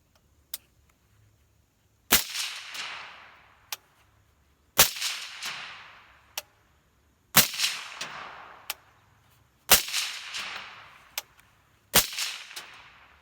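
Rifle gunshots fired through a KAK Industry K-SPEC muzzle device, about ten sharp cracks in uneven pairs, each loud close report trailing into a short ringing decay, with quiet gaps between.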